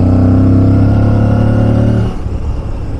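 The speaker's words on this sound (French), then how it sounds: "Il fait du bruit cette moto, vache." A loud motorcycle engine, likely a maxi trail bike, revving hard close by with a dense low drone for two seconds, then cutting back to a rougher, quieter idle.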